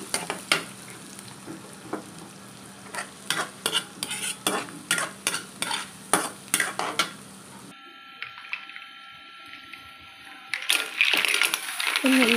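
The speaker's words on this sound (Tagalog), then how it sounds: "Saute the garlic and the chili." Garlic and chili sauté in coconut oil and butter for a seafood dish: a steady sizzle with rhythmic, repeated spatula scrapes against the pan for about eight seconds, after which music takes over.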